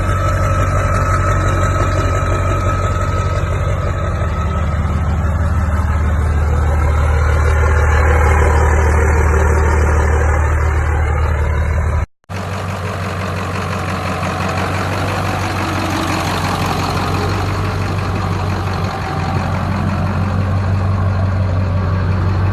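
A diesel truck engine idles loudly and close, a steady deep rumble with a low drone that holds throughout, briefly cutting out partway before running on.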